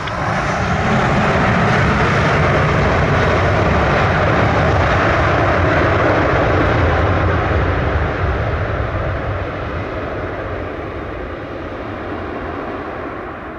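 A US Air Force Globemaster transport aircraft landing in Jamaica gives a loud, steady jet roar that rises quickly, holds close, then slowly eases off as the aircraft passes, with no voices.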